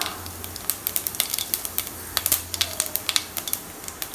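Fennel seeds crackle in hot oil at the start of a prawn thokku, giving quick irregular pops and ticks over a soft sizzle, close and fairly sharp, with no speech.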